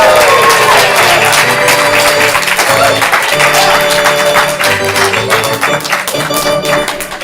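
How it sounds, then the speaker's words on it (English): Audience at an improv comedy show cheering wildly and applauding for the captains, a loud, dense roar of claps and shouts sustained throughout, tapering slightly toward the end. "Whenever I call captains or players on the field, I need you to cheer wildly."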